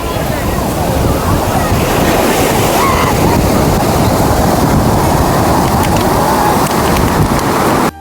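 Steady rushing surf of sea waves on the beach at Somnath, Gujarat, loud and continuous, with wind buffeting the microphone throughout.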